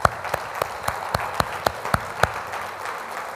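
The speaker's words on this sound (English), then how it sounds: "Can we give Him a big old hand clap?" Congregation clapping in unison at a church worship service, about ten steady, evenly spaced hand claps at a lively beat over a low murmur of the room, fading toward the end.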